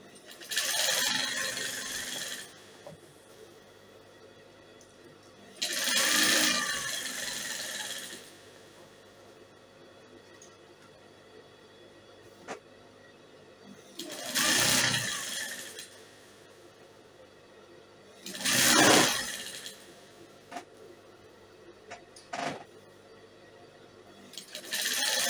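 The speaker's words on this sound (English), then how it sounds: "So I'm stitching both of them together, the two right sides, with my crinoline on top of it." A sewing machine stitches two right sides of fabric together with crinoline layered on top, running in four separate bursts of a few seconds each, broken by quiet pauses with faint handling noises.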